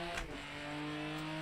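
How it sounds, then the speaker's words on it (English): Buzzy, thin engine note of a BMW race car in a PS5 racing game, held steady and loud under a constant drone with bright harmonic lines, sounding more like a lawnmower than a race engine. "Why does the BMW sound like a lawnmower?"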